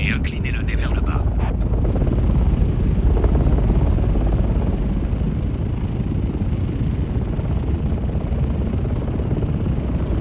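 Ornithopter in a Dune video game taking off at full power on Arrakis, a loud, dense, continuous engine roar and rumble that holds steady throughout, with a few faint clicks at the start.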